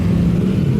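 Street traffic near Compostela gives a dense, steady low rumble of engines and passing vehicles, fairly loud and continuous, with no talk over it.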